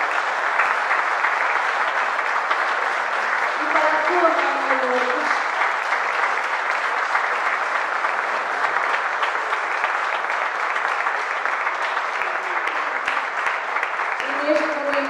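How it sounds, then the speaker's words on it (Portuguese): Sustained audience applause fills a fado night performance as the crowd welcomes singer Liliana Ribeiro, steady and dense throughout, with a presenter's voice speaking over the clapping. "eu peço uma grande salva de palmas para a Liliana Ribeiro"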